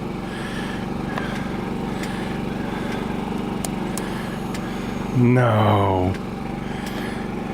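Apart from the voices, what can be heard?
Kawasaki KLR 650 motorcycle engine being started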